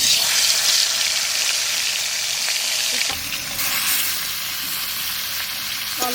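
Shol fish, salted and coated with turmeric, sizzles loudly in hot oil in a home kitchen. The frying hiss is steady and close throughout, with a slight dip midway.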